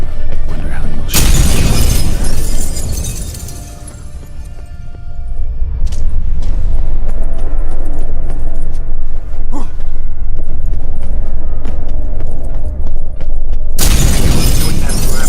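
Heavy shattering in The Witcher 3: Heart of Stone during the final fight, loud crashing bursts at the start and end around a sustained rumbling, booming stretch of combat noise.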